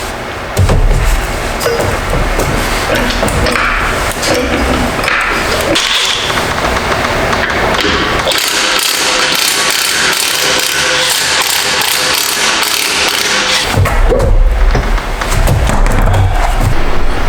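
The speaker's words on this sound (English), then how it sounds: "the wheel bolts here are gonna be 17mm, so I'm gonna go ahead and use my little trusty DeWalt and get these off" A DeWalt impact tool rattles loose 17mm wheel bolts on a BMW G80 M3, loud and close, in a few long bursts of hammering with short pauses between them.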